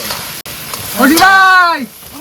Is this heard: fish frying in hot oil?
yes